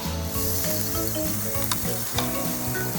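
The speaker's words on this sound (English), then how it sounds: "So they get a second set of 60 seconds now on the flame grill." Steaks sear on a flame grill with a constant, loud, bright sizzle close by, broken by a couple of sharp pops and crackles.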